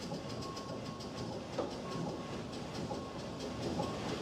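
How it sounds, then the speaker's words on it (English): A slow steam train pulled by Cedric the steam crane rumbles and clatters steadily along the rails at a moderate distance, with a continuous low hiss and no voices. "Cedric the steam crane pulled the afternoon lunch train so slow that no soup was spilt."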